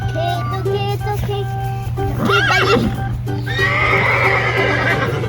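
A horse at a farm gives a loud, quavering neigh close by, followed by a second longer whinny, over a constant low mechanical hum and background noise.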